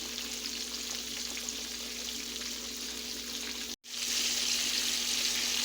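Pork chops frying in hot grease, a loud, constant, close sizzle that cuts out for a split second and then continues.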